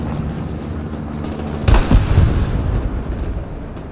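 Explosions from an airstrike bombing run in the WWII shooter Hell Let Loose, a few heavy booms landing in quick succession around the middle, loud over a rumbling battlefield background with no talk.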